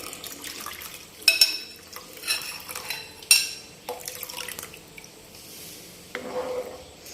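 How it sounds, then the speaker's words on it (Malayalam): Coconut milk pours and splashes into a simmering pot of green chilli payasam, with soft bubbling and a few clinks of metal, close by and fairly quiet. "അപ്പൊ ഇതിലേക്ക് നമുക്ക് 1ാം പാൽ ആഡ് ചെയ്ത് കൊടുക്കാം"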